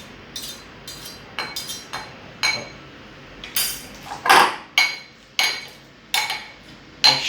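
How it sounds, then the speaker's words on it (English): A fork mashes banana in a bowl for pancake batter, giving a string of sharp metallic clinks and taps against the bowl, irregular and close, with no talking. "You can use a fork to make mashing easier by removing the chunks from this"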